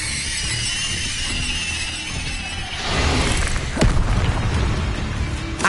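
Rapid spell casts from Accio and Incendio in Hogwarts Legacy give a continuous wash of whooshing, crackling magic, with fiery bursts and a sharp swish near the end.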